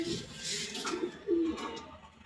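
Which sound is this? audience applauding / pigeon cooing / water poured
pigeon cooing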